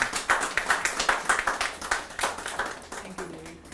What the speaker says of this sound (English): I want all of you to give Nimal and Sugita a big round of applause for doing such a great job.